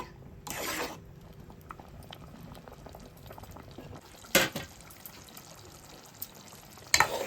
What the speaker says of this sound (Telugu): గోంగూర ఇలా కలుపుకొని మన కూర దగ్గరగా ఉడికించుకోవాలి.